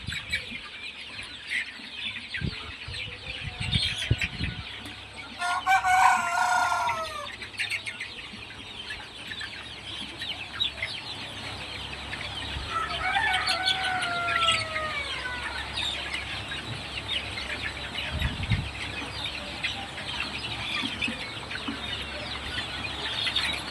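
Chickens over a month old cluck and call around a water and feed spot in a coop, with a flurry of louder squawks midway and steady clucking throughout, no talk.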